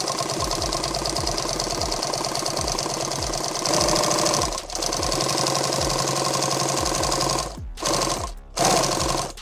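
A sewing machine stitches a pistol magazine pack in rapid mechanical bursts, a steady motor whir with regular needle thumps, pausing briefly twice near the end before resuming, close and loud.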